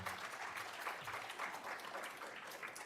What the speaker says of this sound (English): A round of applause for Kelly.